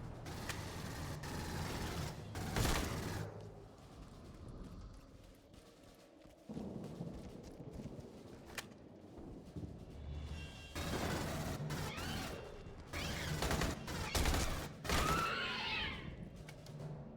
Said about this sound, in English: I can switch to the battle or the assault rifle and show you what that's like.